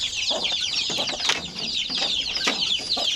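Shamo chickens clucking close by, soft overlapping clucks and chirps over steady background noise, a constant flock murmur.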